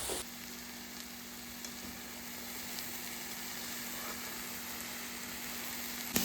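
Steady, even sizzling of vegetables frying on high heat in a hot pan, a constant hiss with a faint hum underneath and no talking.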